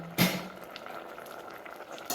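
A pot of Kerala-style tender jackfruit curry bubbles and simmers softly, with a brief louder stir or splash near the start.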